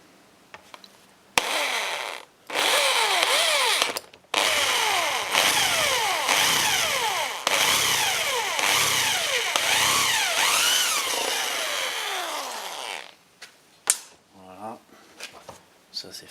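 A power tool drives a screw into thick plastic on a Jeep Cherokee XJ, with several loud bursts of whining motor that rise and fall in pitch, separated by short pauses, close up.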